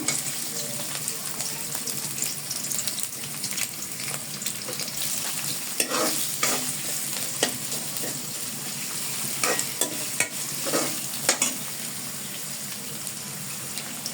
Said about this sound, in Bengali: আমি আরও কিছুটা পরিমাণ তেল দিয়ে তার ভিতরে কুচি করা পেঁয়াজ দিয়ে দিলাম